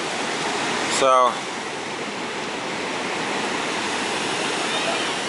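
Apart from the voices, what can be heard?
waves on a beach at low tide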